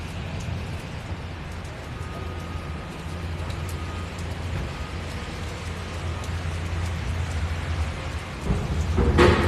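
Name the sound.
rain falling outdoors at Sylvia Park, Auckland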